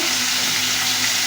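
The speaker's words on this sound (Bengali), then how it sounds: "ভাজা তেলে সবজি দিয়ে দিচ্ছি" Vegetables fry in hot oil with a dense, even hiss, close and continuous for the whole short stretch, with no voices.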